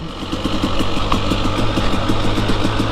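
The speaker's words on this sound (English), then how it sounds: "just to get the bike nice and warmed up" A motorcycle engine idles as it warms up before a ride, with a steady, close, loud rumble and an even pulsing beat that continues without a break.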